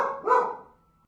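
A single dog bark, loud and close, with a short ringing tail fading out over about a second.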